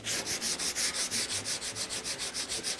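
Fine 320-grit sandpaper rubbed by hand over wooden furniture, a steady rhythmic back-and-forth scratching of about two strokes per second, close and fairly even with no talk.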